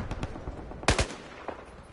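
Bursts of automatic gunfire in the video game Battlefield 4, a few scattered shots followed by a loud, close volley near the middle and a fainter shot afterward, with no talk.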